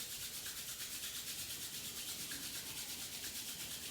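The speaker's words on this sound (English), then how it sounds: "just rub them together as fast as you can, creating lots of friction, energy," Palms rub together fast and continuously in a quiet room during a meditation and gentle yoga session, a close, steady, even swishing friction with no pauses.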